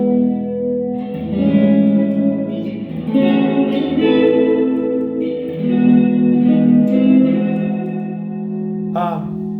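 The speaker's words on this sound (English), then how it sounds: "I've turned my delay off. That's just the reverb there." A Jazzmaster electric guitar plays sustained, ringing chords through a drippy surf-style reverb with the delay switched off, loud and close, each strum blooming into a lingering wash before a final bright scrape.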